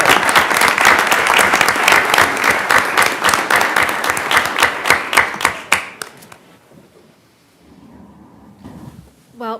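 A council meeting audience claps for a newly certified municipal clerk, brisk loud rhythmic applause that fades out around six seconds, followed by low room murmur and a brief final sound.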